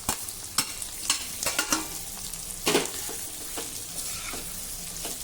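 Kondavale, a traditional Maharashtrian dumpling, tossed into hot spiced garlic oil, sizzling close by with repeated sharp stirring scrapes and clatters against the pan, no speech.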